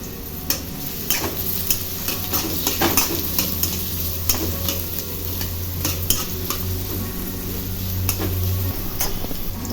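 Onion with cumin and crushed garlic fries in a pan for a wild monsoon vegetable dish, sizzling steadily while a utensil clicks and scrapes against the pan at irregular intervals, with no talking.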